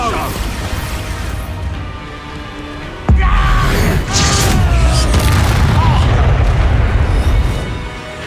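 Expulso explosion spell in Hogwarts Legacy, a sudden loud boom that breaks into a long roaring, crackling blast with debris, staying heavy for several seconds before easing off.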